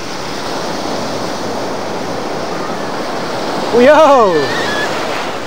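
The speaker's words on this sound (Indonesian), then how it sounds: "Oh, tu ombak-ombak." Ocean waves on the beach at Desaru Coast, a steady loud wash of surf with wind buffeting the microphone, while a person briefly exclaims partway through.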